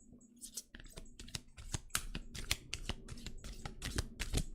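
Playing cards shuffled and handled at close range in a quiet room, giving a run of crisp riffling bursts and sharp flicks at an irregular, quickening rhythm, with no talk over them.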